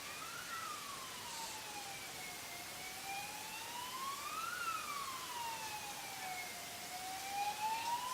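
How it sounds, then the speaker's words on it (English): An ambulance siren wails in a slow rising and falling sweep, faint and distant over steady background noise, with no one speaking, at a multi-disability sports championship venue. "there's another ambulance"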